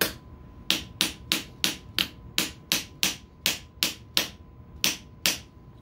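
About thirteen sharp metallic hammer blows struck close by with a 3D-printed scope mount, in a fairly even rhythm, each ringing briefly before the next.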